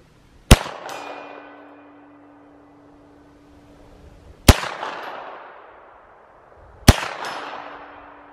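Three loud, sharp gunshots from a KelTec Sub 2000 9mm carbine fired at a target 100 yards away outdoors, spaced a few seconds apart, each followed by a long ringing echo that fades before the next shot.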